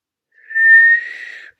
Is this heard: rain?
no